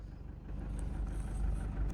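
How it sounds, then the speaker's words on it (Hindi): A car engine runs with a low, steady idle hum while the vehicle slowly reverses during a driving lesson, faint and continuous, with no talk. "धीरे से पीछे जाने दो गाड़ी को।"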